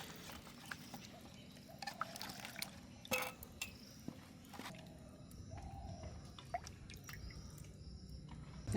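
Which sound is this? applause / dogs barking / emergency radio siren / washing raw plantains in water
washing raw plantains in water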